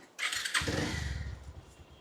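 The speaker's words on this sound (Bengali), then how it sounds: "ওনার একটু সাউন্ডটা দেখাই পালসারের সাউন্ড" A Bajaj Pulsar motorcycle engine cranks and catches after a short whirring start, then settles into a steady low idle.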